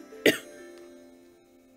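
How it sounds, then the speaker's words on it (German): A single sharp cough bursts out near the start, close and loud, followed by a quiet background hum. "Ich muss husten."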